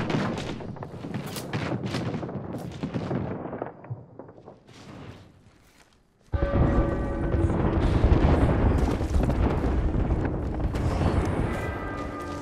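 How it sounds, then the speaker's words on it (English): Airstrike explosions in a battle-royale-style video game: a run of heavy booms and crackling blasts that fade to near silence, then a loud, dense barrage of detonations and rumbling resumes abruptly and continues. "An airstrike is falling."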